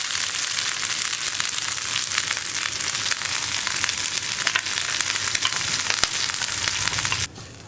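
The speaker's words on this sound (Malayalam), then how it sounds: "അപ്പോൾ നമ്മുടെ തേങ്ങ ചേർത്തിട്ട് ഒന്ന് ഇളക്കി കൊടുക്കുക" Crushed coconut hits hot oil with spluttering mustard seeds, curry leaves and dried chillies for a potato thoran. A loud, dense crackling sizzle carries on with stirring, then cuts off abruptly near the end.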